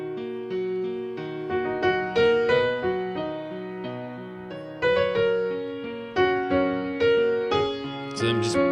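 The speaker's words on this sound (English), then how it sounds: "playing and arpeggiating the chords, playing them one note at a time" Single notes of chords ring out one after another in steady arpeggios, played alone and up close, approximating the backing of a song while soloing over it.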